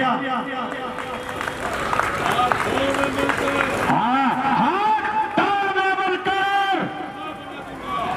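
An audience at a Ramleela performance breaks into applause and cheering, a broad wash of clapping mixed with crowd noise beneath a loud, sung or declaimed voice carrying over it.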